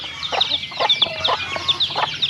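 Farm hens cluck in short repeated bursts close by, joined by the high peeping of chicks, with no talking over them.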